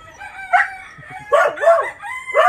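Chickens heard close and loud, with a rooster crowing in long wavering calls and other fowl clucking and squawking in between, repeated bursts with no talk over them.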